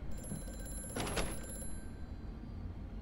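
A telephone bell rings in a brief burst around the middle in the video game Amnesia: A Machine for Pigs, set against a steady hum of background noise; no one speaks.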